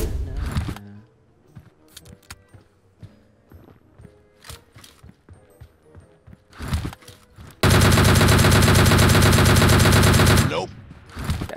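AWM sniper rifle fire rings out in PUBG Mobile gameplay. Sharp, scattered gunshots crack at close range, followed by a loud, sustained volley lasting several seconds, with faint footstep-like taps between the shots.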